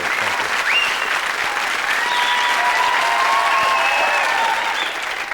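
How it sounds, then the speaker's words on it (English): A TV talk show studio audience applauds in a full, continuous wash of clapping and crowd noise that holds steady and then eases off at the end. "I thought you overdid the applause there, Barry."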